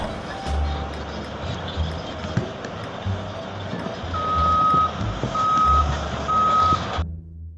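A toy sand truck gives off repeated electronic reversing beeps, three steady tones sounding one after another in the second half, over loud rumbling handling noise close by.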